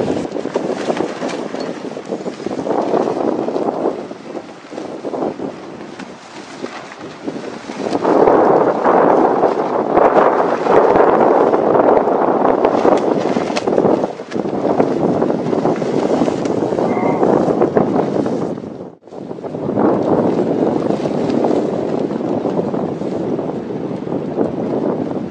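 Wind blows across an outdoor tent pitch, a strong steady rushing gust that swells and eases over about 25 seconds, with brief lulls and no talk.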